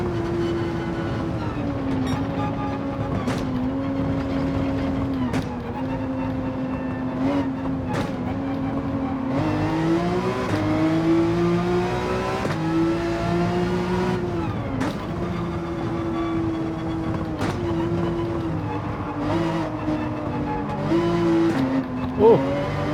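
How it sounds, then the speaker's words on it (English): A Porsche GT3 race car on hard racing slicks drives a track, its engine droning loud and steady throughout, pitch rising and falling through gear changes and revs, with brief sharp upshift breaks. "Car wants to slide out on these racing hard slicks."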